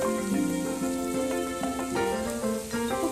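Palm fruit fritters (taler bora) frying in hot oil, a continuous close bubbling sizzle with faint pops throughout, over background music and no talking.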